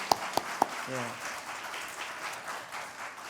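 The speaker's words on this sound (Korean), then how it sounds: "이렇게 오시는 분들에게 다시 한번 서로에게 환영의 박수를 올리겠습니다." A church congregation applauds in welcome during a Korean Sunday morning service: a few sharp, distinct claps come first, then fade into a soft, diffuse room wash with a voice murmuring in the background.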